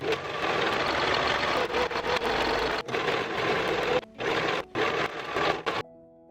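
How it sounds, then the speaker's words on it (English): A serger sewing machine runs across a shirt seam with a close, steady motor whir and rapid stitching chatter, stopping briefly several times before halting near the end. "I'm going to serge this first."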